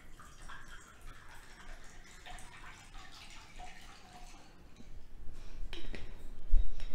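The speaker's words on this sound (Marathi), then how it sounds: "आता यामध्ये थंडगार पाणी घालायचं आहे" Cold water is poured into a jaggery and cumin sherbet mixture, a soft trickling splash that swells louder toward the end, with a faint clink near the close.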